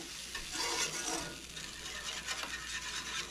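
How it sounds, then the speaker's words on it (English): Flour and milk gravy thickening in a pan, stirred steadily while a utensil scrapes the pan to keep lumps out: a continuous close scraping swish over a low sizzling simmer, with no voices. "use it to scrape up the ends, get that flour all mixed in so you don't get lumps"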